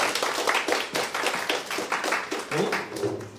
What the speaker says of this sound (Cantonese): 再啲掌聲俾歐博士